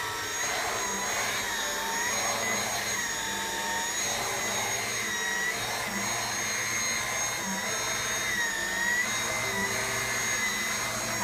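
A Dyson V8 Absolute cordless vacuum cleaner with a tool attached runs steadily on stairs, a continuous high whine and airy roar held close and constant throughout, with no talking.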